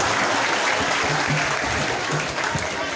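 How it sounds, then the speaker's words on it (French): A school prize ceremony honoring dictation and mathematics contest winners fills with sustained, dense applause from a large crowd, steady and loud from start to finish with faint voices underneath. "Applaudissez pour les hommes."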